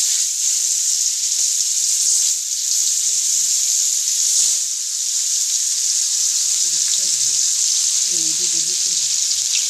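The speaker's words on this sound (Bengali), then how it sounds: "ডাল দিয়ে এই যে পাঙ্গাস মাছটা ভাজি করবো।" Pangas fish fries in a pan in a village kitchen with a steady, loud hiss of hot oil throughout, joined by brief low thumps and muffled handling noises near the end.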